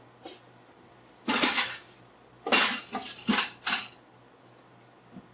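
A 1937 Pyrex Flameware glass saucepan, skillet and lid being unpacked from a worn cardboard box, with a few short bursts of clinking and rattling glass, handled up close with quiet pauses between.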